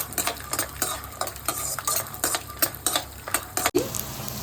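Peanuts frying in hot oil in a pan, stirred with a utensil: a steady sizzle broken by regular scraping clicks and rattles of the spoon against the pan, close and clear with no talk.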